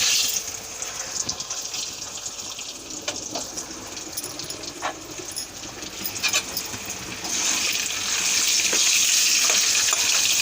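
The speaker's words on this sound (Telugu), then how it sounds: "కలర్ వచ్చే వరకు వేయించుకోవాలి." Country chicken eggs frying in a pan with oil and chili powder, a steady hiss and crackle that continues throughout, growing louder and denser near the end, with no talk.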